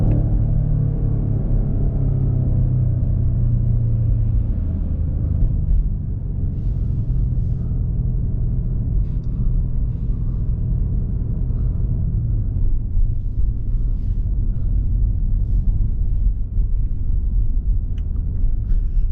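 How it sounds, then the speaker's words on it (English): 2022 BMW M5 Competition with the 4.4-litre twin-turbo V8 N63 driving on the road, heard from inside as a deep, steady engine rumble and road noise with a brief rise in revs early on, no talking. "It was just a quick little drive with a BMW M5 Competition 22 model year."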